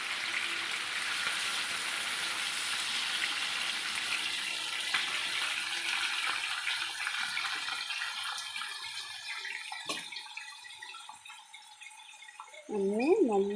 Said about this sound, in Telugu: ఇలా పెనం పెట్టుకొని ఇలా కొంచెం ఆయిల్ పోసుకొని ఇలాగ ఫ్రై చేసుకోవచ్చు